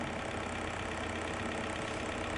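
A diesel car engine with common rail injection idles steadily during an injection test, a faint, even hum and rumble with no change in pitch over the short stretch.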